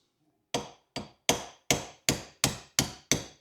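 A small hammer taps a bearing held loosely in a mini vise during repair of engine damage from a dropped valve: eight sharp, ringing metallic knocks in a steady rhythm, close and loud, with no talk.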